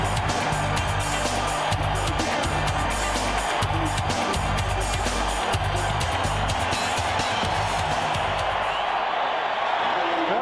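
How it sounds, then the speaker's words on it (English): Stadium crowd at a 1993 NFL football game between the Dallas Cowboys and Phoenix Cardinals, a dense continuous roar of cheering fans filling the whole stretch, loud and steady with a commentator talking over it. "Crowd's into it now."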